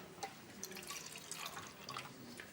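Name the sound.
water dripping or pouring into a glass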